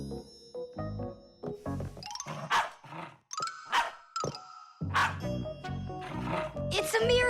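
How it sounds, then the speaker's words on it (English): A cartoon dog from The Fixies barks several times in short, bright yelps, mixed with voices talking and snatches of music and chimes. "You know how Chewsocka barks whenever she sees a Fixie around"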